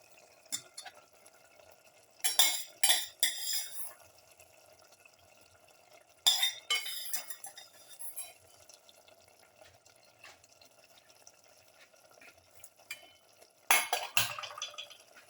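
Lamb and cauliflower pieces stirred in a pressure cooker, with three short bursts of scraping and clinking as a utensil works through the pot, separated by quieter stretches.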